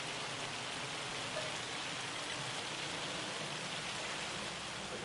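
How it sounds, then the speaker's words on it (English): Rain falls steadily in Farming Simulator 25, a dense even hiss of drops with no pauses and no voices. "I hope that this stinking hail / rain stops."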